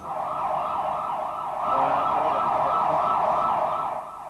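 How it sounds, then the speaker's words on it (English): A loud, continuous wailing siren rises and falls in rapid cycles, close by and steady throughout, with faint road noise beneath. "shortly you will hear the sound of police sirens."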